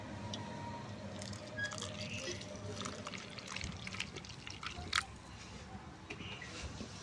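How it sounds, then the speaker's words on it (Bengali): Hot water poured into a semolina dough mixture for crunchy snacks gives a soft, close trickle with light squishing and faint liquid sounds at low volume. "গরম জলটা দিয়ে দিই।"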